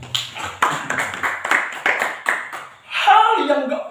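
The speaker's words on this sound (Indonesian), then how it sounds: "Tepuk tangan bagi Tuhan." A church congregation at a sermon claps in a burst of roughly evenly spaced, fairly close claps, then a voice rises over the last second.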